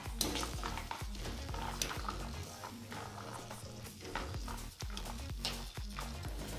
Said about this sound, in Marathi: छान काजू बदाम फ्राय झालेले आहे